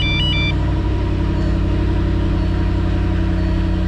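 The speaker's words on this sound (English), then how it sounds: "And I'm gonna start it up again for y'all." Car engine starting up and settling into a steady idle, a loud continuous rumble close by with a brief high warning chime at the start and no talking.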